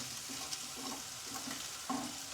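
Coarsely crushed ginger, garlic, green chilli and onion fry in a pan with a soft, continuous sizzle, broken by light scraping taps as they are stirred.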